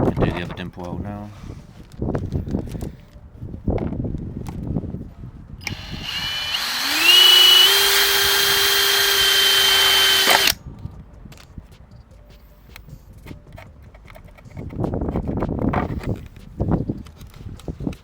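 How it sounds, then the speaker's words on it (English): A power drill fitted with a 6mm bit bores through a rear spat on a Hyundai i30N, a rising whine that settles into a steady loud drone for about four seconds, with people talking before and after. "you just want to leave the weight of the drill and it'll eventually just cut through"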